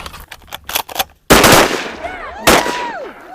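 Two loud, close shotgun blasts fired at ducks on the wing during a Missouri waterfowl hunt, each with a sharp crack and rolling echo, following a short stretch of quiet background murmur.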